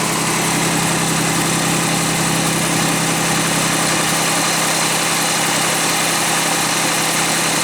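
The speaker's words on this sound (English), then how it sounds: "You can hear the transmission fluid get spewed out." A Pontiac engine idles steadily with a constant mid-low hum and vibration, loud and close, with no voices over it, while transmission fluid spews out and burns.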